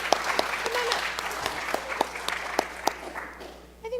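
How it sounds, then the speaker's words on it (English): A conference audience claps at a clinical performance improvement leadership summit, moderately loud applause with a few sharp individual claps standing out, thinning toward the end as a voice begins. "So special applause for you."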